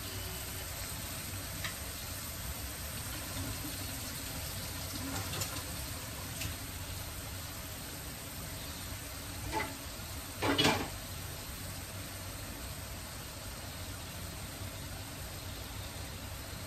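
A steady low hiss of fish frying in a pan for tuna, quiet and continuous, with a few faint clinks and a brief louder scrape midway, no talk.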